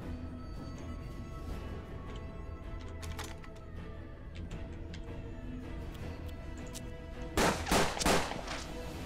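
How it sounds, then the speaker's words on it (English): Gunfire in the turn-based tactical game Hard West, several quiet scattered shots over a low steady background, then a louder cluster of three bursts near the end. "All of the 3 shots missed."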